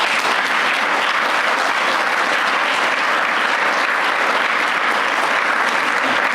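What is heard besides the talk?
big round of applause for the panel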